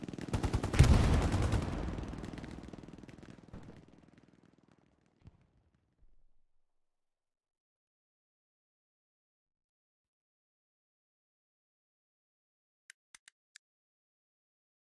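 Machine gun fire in the World War II shooter Hell Let Loose, fighting over Utah Beach: a loud burst of rapid shots at the start decaying into echoing rumble, then silence with a few faint clicks late on.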